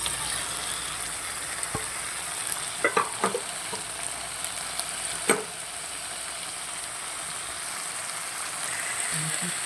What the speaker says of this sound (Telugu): టమాటో, ఆనియన్స్, గ్రీన్ చిల్లీ అన్నీ ఆయిల్లో వేసుకున్నామండి.